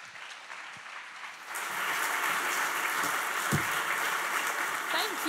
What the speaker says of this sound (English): you've done some excellent clapping